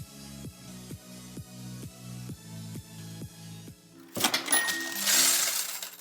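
A steady rhythmic clunking repeats for about four seconds, then gives way to a bright burst of metallic jingling and clinking, like coins spilling.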